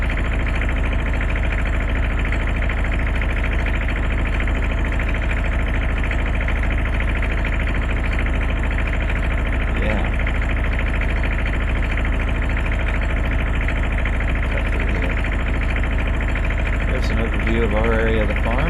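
Tractor engine running steadily in Farming Simulator 2013, a continuous mid-to-low idle drone with engine knock, under occasional talk from a player.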